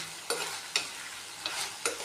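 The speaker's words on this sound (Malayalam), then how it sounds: "നമ്മൾ ആദ്യം തന്നെ കടുക് വറുത്താണിത് വെണ്ടയ്ക്ക വഴറ്റുന്നത്" Okra sautéed in a pan with mustard seeds, green chilli and curry leaves: a steady oil sizzle with four sharp stirring scrapes spaced about half a second apart, close and fairly quiet, with no voices.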